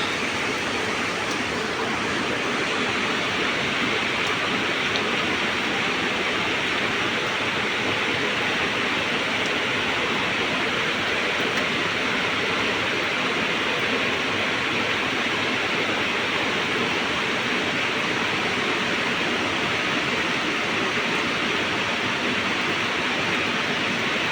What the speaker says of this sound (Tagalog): lumakas na talaga yung ulan lumakas na